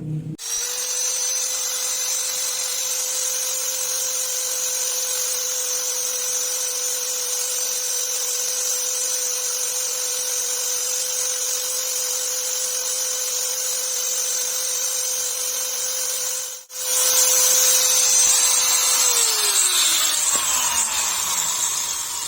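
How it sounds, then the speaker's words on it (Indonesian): Angle grinder cutting a motorcycle front shock absorber part, a loud steady high whine held for about sixteen seconds, briefly cutting out, then spinning up again and winding down at the end. "Pakai gerinda Mas."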